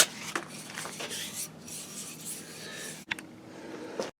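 Sandpaper or a rasp roughs up the back of a wooden game-call part before epoxy gluing, a steady dry scratching rub running nearly throughout, close and moderately loud, with a brief break near the end.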